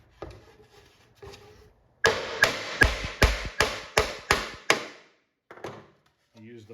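Hammer taps parts into an arcade control panel held in a vise, a steady run of about ten loud, evenly spaced knocks, followed by a few softer taps and quiet voices around it.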